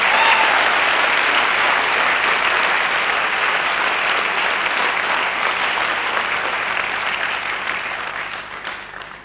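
A large audience at a motivational talk bursts into loud, sustained applause, with a thick, even wash of clapping that holds steady and then fades gradually at the close.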